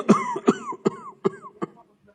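A man coughs in a bout of five sharp, close coughs, each quieter than the last, spaced roughly a third of a second apart, with a short pause before the final cough.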